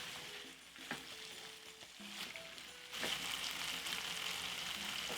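Masala pork ribs fry slowly in a single pot, a soft, steady sizzle that grows slightly louder partway through, with faint tonal background sounds underneath.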